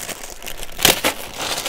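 Plastic bags crinkle as LEGO DUPLO toy figures are pulled out, brief close rustles with a louder burst near the middle.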